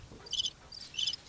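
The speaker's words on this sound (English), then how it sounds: "Where's the crickets?" Cricket chirping played as a sound effect: three short bursts of high, trilling chirps, fairly faint, evenly spaced, with no voices over them.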